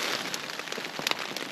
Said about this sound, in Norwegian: Regnet driver og tar seg opp.